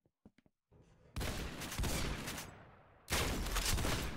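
Shotgun fire in the Roblox Arsenal game: a few faint clicks, then a loud blast about a second in with a long ringing tail, and a second heavy blast near the end, close and alone.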